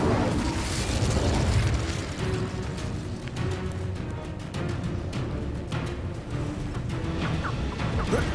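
In Hogwarts Legacy, casting the Incendio fire spell sets off a loud, rumbling burst of flame and crackling impacts. A roaring whoosh opens the clip, then dense crashing, sputtering fire keeps going steadily to the end.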